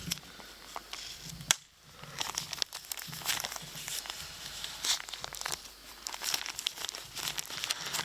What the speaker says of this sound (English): And just plug up this hole with a little tape.